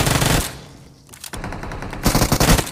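Automatic gunfire during a BGMI squad fight in a mobile game, loud rapid bursts of machine-gun fire broken by a short lull, then another dense volley.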